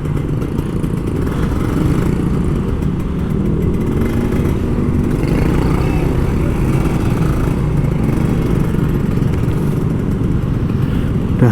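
A Kawasaki Ninja RR two-stroke motorcycle rides through Jakarta traffic on an evening commute, its engine droning steadily under heavy wind rush, with no clear pauses or rev spikes, loud and continuous.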